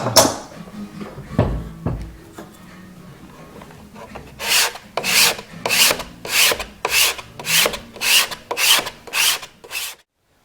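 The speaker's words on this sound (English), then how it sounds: "Now we take out the scraper blade." A scraper blade is drawn across wooden Spanish guitar sides in about a dozen evenly spaced, loud, rasping strokes, close by, after some softer handling noises at the start.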